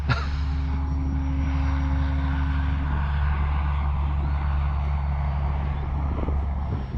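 An FMS PA-18 Super Cub 1300mm RC model airplane flies in wind, its steady engine drone running close and loud throughout, with a whining tone that fades partway through.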